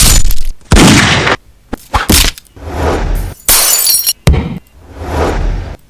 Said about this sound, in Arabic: ده صوت حاجه بتتكسر